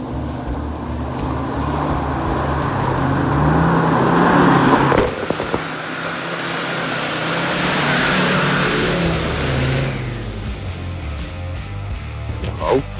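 A 4x4 off-road vehicle on mud tyres approaches up a muddy, rutted green lane in Shropshire, its engine droning and revving steadily, a sharp surge mid-way, then fading as it passes nearby.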